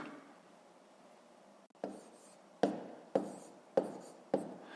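Pen or pencil writing numbers by hand on paper for a fifth-grade maths exercise, heard as a soft scratchy rub followed by four sharp, evenly spaced strokes or taps, close and quiet with no talk.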